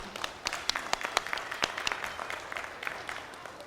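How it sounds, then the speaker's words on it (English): Applause for a young girl after her speech at a children's presidential speaking event, a modest crowd of individual, distinct hand claps close by, irregular and fading slightly toward the end. "Let's give another round of applause for Navina"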